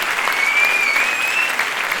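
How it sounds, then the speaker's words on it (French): Audience at a stand-up comedy show applauds two comedians, a dense, steady wash of clapping from a large crowd throughout, close and loud with no talk over it. "si on peut les applaudir s'il vous plaît"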